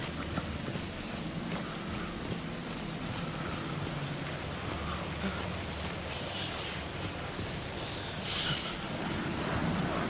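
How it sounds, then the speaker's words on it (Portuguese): Heavy rain pours in the video game Alan Wake 2, a dense, unbroken hiss that stays loud from start to finish, with faint traces of voice. "Chovendo pra caralho."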